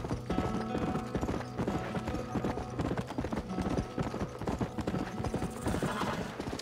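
Rhythmic clip-clop of horse hooves trotting steadily, close and clear, with a brief whinny, continuing throughout without talk, in the video game Red Dead Redemption.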